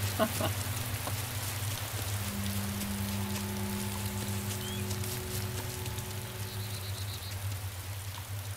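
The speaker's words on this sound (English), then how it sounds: "Yeah, and there's the rain starting again." Rain falls in the DayZ video game, a steady hiss of drops on surfaces under a low constant hum, with faint tonal game sounds drifting in.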